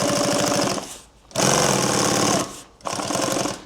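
An industrial sewing machine stitches a leather duffle bag in three loud bursts of rapid mechanical chatter, each run separated by a short pause, close up and without speech.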